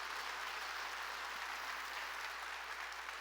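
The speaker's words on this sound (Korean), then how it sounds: "깨달았어, 박수치라고요." A church congregation applauds during a sermon, with steady, dense clapping that holds at an even level throughout without pause.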